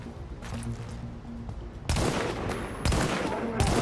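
A gun firing incendiary bullets in the game The Division: a quieter stretch of rattling fire, then heavy, loud automatic bursts kicking in, three sharp surges close together near the end.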